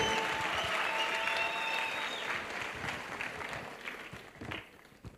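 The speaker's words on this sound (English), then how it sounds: "One more time, a round of applause for Mr." Sustained applause from an audience at a youth empowerment week event in Vaal, a dense, steady wash of clapping that fills the whole stretch and thins slightly toward the end.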